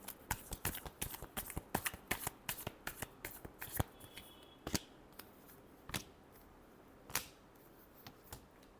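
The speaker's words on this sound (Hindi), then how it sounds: "last shuffle" Tarot cards being shuffled close up, a run of quick crisp flicks and slaps that thins out into a few separate snaps, quiet and alone.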